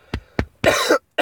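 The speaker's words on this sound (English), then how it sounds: "I haven't been coughing for ages and now I'm just coughing ridiculous amounts." After juice goes down the wrong way, a person coughs close up: two short sharp coughs, then a longer harsh hacking burst and the start of another, with no talking.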